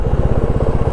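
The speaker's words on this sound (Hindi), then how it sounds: "चलो यार इतना ट्रैफिक" A Royal Enfield Classic 350 motorcycle engine thumps loudly and close in a fast, even low pulse amid busy street traffic.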